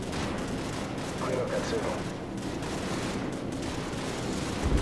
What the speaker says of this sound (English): You're firing too close to the friendlies.